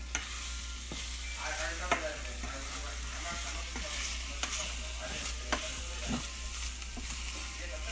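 Chicken with an instant sauce frying in a pan as it is turned, a steady close sizzle with intermittent scrapes and stirring clicks throughout, no voices.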